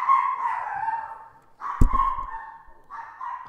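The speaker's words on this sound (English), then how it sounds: "I apologize for this. That's my stupid dog." A dog barks in bursts nearby, three loud close barks with a sharp thump in the middle, heard indoors behind a computer game session.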